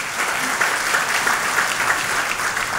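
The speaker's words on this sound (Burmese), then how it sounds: "ဆရာကြီးကိုလည်းကျေးဇူးပြုလက်ခုပ်တီးပြီးတော့ကြိုဆိုပေးပါ" Congregation applause welcoming a senior pastor in a church service, a steady, fairly loud wash of many hands clapping evenly throughout the short stretch, with no talking over it.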